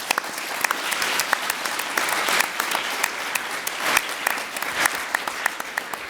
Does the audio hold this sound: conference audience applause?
yes